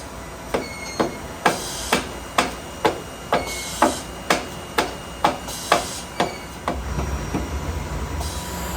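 Hammer blows driving parts forward into place on a Haitian Absolute ZE 1900 III injection molding machine, about a dozen loud, sharp metallic strikes in an even rhythm, then a low machine rumble.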